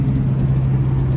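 A 1965 Ford Mustang engine with a new carburetor idles steadily, a loud, close, continuous low rumble with no voices.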